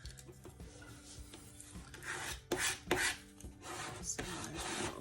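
Small scraper rasping and scratching the centers out of cured UV resin letters, a close series of irregular rubbing and filing strokes with short louder scrapes near the end.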